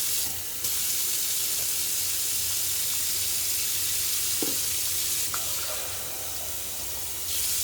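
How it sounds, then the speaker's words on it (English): Warm tap water runs in a steady broadband hiss while hair is being wet, with brief gaps and a few small knocks along the way. "I'm using warm water, so I'm testing the water"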